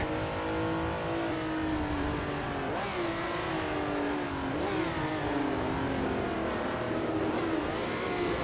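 Racing car engines roaring continuously in a 1967 Daytona Continental 24-hour race video game, with loud sustained revving, pitch sweeps at gear shifts, and other cars passing close by; no talking.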